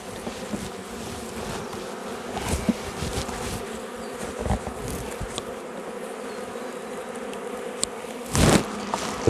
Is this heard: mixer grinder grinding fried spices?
no